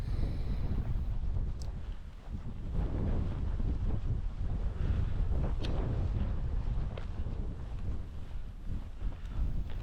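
High wind gusts across the microphone outdoors, a loud, constant low roar with rushing buffeting that never lets up.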